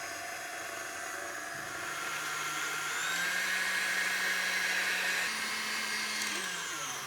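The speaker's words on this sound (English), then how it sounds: "I've fitted my stand mixer with the whisk attachment and I'm going to beat the egg whites until they're nice and foamy." A stand mixer fitted with a whisk attachment whirs steadily as it beats egg whites, a loud continuous motor hum that rises slightly in pitch midway, close up with no talking.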